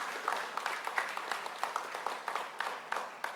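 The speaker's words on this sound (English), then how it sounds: "Please give Al Hutchinson a round of applause." Audience applause at an event announcing Baltimore hosting the CIAA Tournament, a steady moderate patter of many hands clapping with scattered sharper claps, no talk over it.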